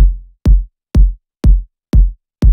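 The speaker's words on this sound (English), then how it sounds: "you could just combine two kicks, one for the transient and one for the sustain" Layered kick drum built from two combined samples, one supplying the transient and one the sustain, with a high cut and a short fade-in. Six punchy, booming hits land at an even pulse about every half second, loud and alone.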